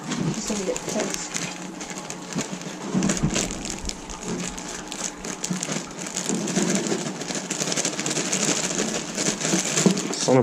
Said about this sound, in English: You got a big spray bottle? I'll just use that one.